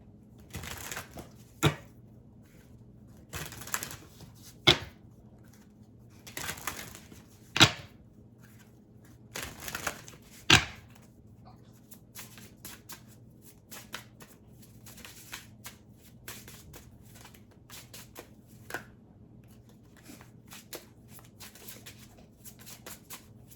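Oracle cards are shuffled and handled close by in soft bursts of riffling and tapping, several short shuffles with quiet pauses between them.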